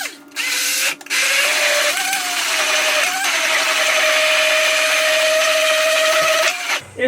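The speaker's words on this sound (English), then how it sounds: "And then simply, you get your blender" A blender whizzes up hummus with a loud, steady motor whir that runs for about six seconds, with a brief dip near the start and a stop at the end.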